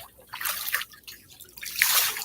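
Water runs and splashes in uneven bursts while hair dye is rinsed out of hair at home, the rushing swelling loud near the end, with no talk over it.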